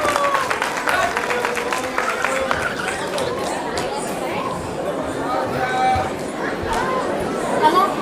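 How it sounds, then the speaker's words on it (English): Audience applause at a children's Ganesha festival story performance, a dense patter of clapping mixed with crowd chatter throughout, moderately loud and close. "Please give a big round of applause to all the participants."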